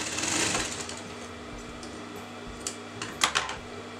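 A sewing machine stitching canvas to frock fabric: a soft, steady mechanical whir up close, with a few sharper clicks and taps near the end.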